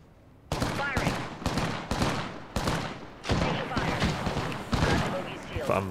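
Gunfire in the Apex Legends video game: loud, sharp bursts of shots fire in quick irregular volleys, close and dense, with in-game voice callouts talking over them.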